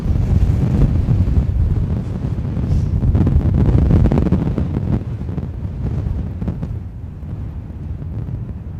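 Strong Storm Bert wind at London Gatwick Airport buffets the microphone in a steady, loud, low roar that surges and eases throughout, with no voices.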